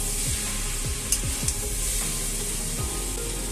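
Chow mein noodles are tossed and mixed in a hot pan, a loud steady hiss with a few sharp utensil knocks and soft scraping over a low background hum.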